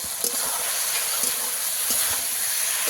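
Fried kuche fish (eel) dropped into hot, well-cooked spice masala, giving a steady, close sizzling hiss that runs throughout with no talking.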